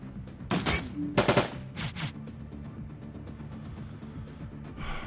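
Turrets firing in the video game Shadowrun Dragonfall, a few short, loud bursts of rapid gunfire early on, followed by scattered lighter shots and a low hum.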